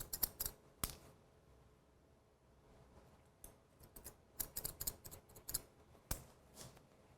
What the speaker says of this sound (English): by cutting the hair at a 45-degree angle